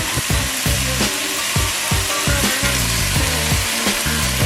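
Jimmy Dean's hot sausage sizzles in a pan alongside ground beef, a steady loud crackle punctuated by rhythmic scraping strokes as the meat is stirred and broken up.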